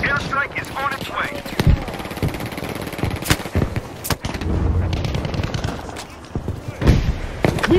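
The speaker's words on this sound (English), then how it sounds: "We need artillery dropped on this location. Request confirmed. Airstrike is on its way." Battlefield 5 battle sounds: sharp gunshots and heavy booms from an artillery airstrike crack out in irregular bursts, some close and loud, others more distant, with a voice talking over part of the action.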